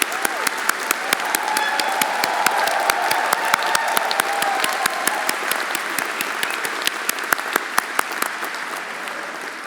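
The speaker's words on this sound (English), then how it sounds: "join with me in giving the class of 2025 their first round of applause to celebrate this important event in their life" A large audience at a 2025 specialty master's commencement ceremony of a business school claps warmly. The dense, steady applause runs unbroken throughout and stays close and loud.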